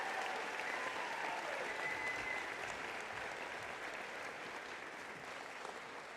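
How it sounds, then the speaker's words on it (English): Commencement audience at a university summer ceremony applauds doctoral degree recipients, a dense, even roar of clapping from a large crowd that stays steady throughout and eases slightly toward the end. "How about another round of applause for all of our doctoral degree recipients?"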